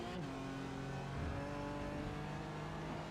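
A BMW GT4 race car on the Silverstone GP circuit, engine humming and droning with shifting pitch under load, steady and moderately loud with no speech.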